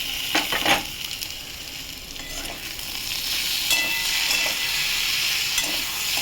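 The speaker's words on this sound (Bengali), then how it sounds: "দেখুন আলুটা ভাজা ভাজা হয়ে গেছে, এবার আমি কাঁচা লঙ্কা টমেটোটা দিয়ে দেবো" Potatoes fry in a pan, and chopped green chilli and tomato are tossed in, setting off a louder, fuller sizzle partway through, preceded by a few stirring scrapes, near and steady with no voices.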